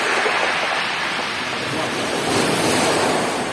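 Steady, loud surf roars close by at the seashore, with constant wind buffeting the microphone and a dense, unbroken wash of breaking water throughout.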